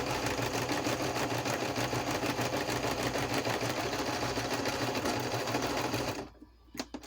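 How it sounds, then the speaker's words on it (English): A sewing machine runs a steady, fast zigzag stitch on book-page pockets, close and continuous for about six seconds before stopping abruptly, followed by a few faint clicks. "I'm using my zigzag stitch"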